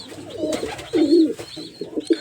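Pigeons coo in their coop, a few soft, throaty rolling calls in quick succession, close by with no one talking.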